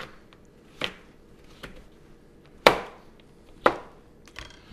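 A knife chops butternut squash into cubes on a board, giving a handful of sharp, separate chops at uneven intervals, with two louder strikes among softer ones.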